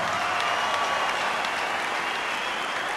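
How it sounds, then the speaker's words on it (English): Steady, dense applause from a boxing crowd after twelve rounds between Kevin Mitchell and Bredis Prescott, loud and continuous with no pauses. "a round of applause for two boxers who gave everything"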